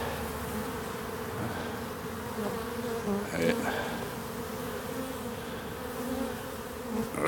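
Honeybees buzz densely around a hive being moved to a new position during working hours, a close, steady swarm hum that swells and fades slightly, with faint handling noises.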